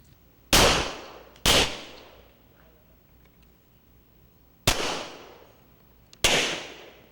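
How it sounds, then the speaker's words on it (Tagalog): Four sharp, loud gunshots ring out at a police firing range during diagnostic firing, widely spaced with echoing tails, and no voices between them. "the simulation diagnostic firing at the Davao City Police Office firing range"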